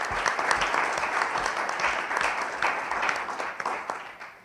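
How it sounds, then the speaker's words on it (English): An audience at innovation fellowship final pitches in Turkey applauds the presenters: sustained, moderately loud clapping from many hands, steady throughout and fading slightly at the end, with no talking. "Let's give a round of applause to everyone who's been presenting so far."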